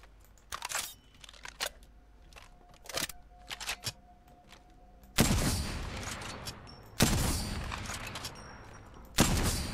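Bolt-action rifle shots in the Apex game, three loud sharp blasts spaced a couple of seconds apart with ringing tails, preceded by quieter clicks and handling noises.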